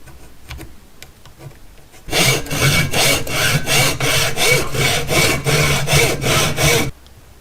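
Light tapping, then a handsaw cuts rapidly through a thin wooden paint stirring stick, about a dozen quick, even back-and-forth strokes, close and loud.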